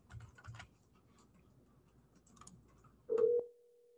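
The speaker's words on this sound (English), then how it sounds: "Now it's dialing Alessandro's number." Phone number dialed on a web-based cloud phone system: a few soft key ticks, then a single clear dial tone about a third of a second long, quiet and close with no talking.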